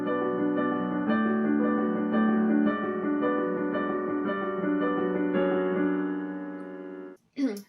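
Solo piano plays a piece with triplets in one hand set against regular sixteenth notes in the other in a steady, flowing pattern of notes, close and clear, before a brief voice at the end.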